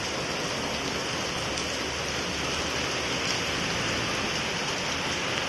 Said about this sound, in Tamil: மழை இங்கே செம்மையாக பெய்யுது.